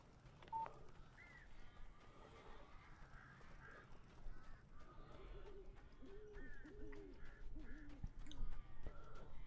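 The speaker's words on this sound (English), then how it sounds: "Oh, that is a lot of birds." Birds in Alan Wake, many scattered chirps, caws and calls overlapping at moderate distance over a faint ambient background, with no talk.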